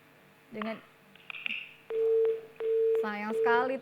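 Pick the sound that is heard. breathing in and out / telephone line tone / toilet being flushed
telephone line tone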